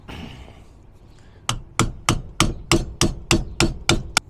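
Old bushing being hammered out of the suspension on a 2014 fifth-wheel RV, about ten sharp, loud metallic hammer strikes in a steady rhythm after a quiet start.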